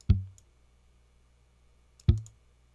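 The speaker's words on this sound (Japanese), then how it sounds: "これはパーカシティブといって弦を叩いている状態です。" Two short, dull percussive slaps on EZ-Bass software bass strings, about two seconds apart, each a muted ghost-note thump with a quick decay and silence between.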